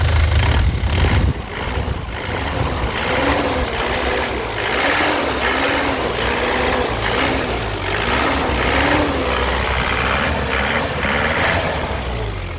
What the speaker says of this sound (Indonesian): Nih, kita gas nyalain lah mesinnya.